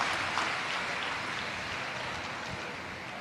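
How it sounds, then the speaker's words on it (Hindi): A large crowd of devotees at a Shiv Mahapuran religious discourse in Kashi claps together in a dense, sustained wash of applause that eases slightly toward the end. "एक बार जोरदार ताली बजाकर बाबा जी के लिए बहुत बहुत साधुता"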